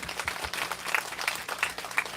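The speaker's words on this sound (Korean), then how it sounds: "우리 전체를 위해서 박수 한번 치겠습니다." Applause from a congregation of about four hundred at a church peace prayer meeting, a moderate, somewhat distant wash of clapping with a loose rhythmic pulse, steady throughout with no talk over it.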